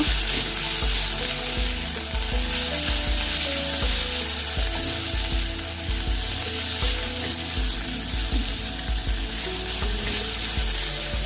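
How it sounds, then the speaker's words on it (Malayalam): Tomatoes stirred into a sizzling egg roast masala in a pan give a continuous loud frying hiss, with the scrape of a spoon and soft stirring thumps running throughout. "തക്കാളിപ്പഴം ഇട്ടിട്ടൊന്ന് ഇളക്കുക"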